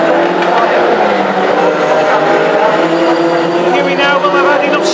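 Classic hot rod race cars lap the Northampton oval during a heat, their engines roaring steadily and continuously close by with faint tyre noise, under a commentator's running talk.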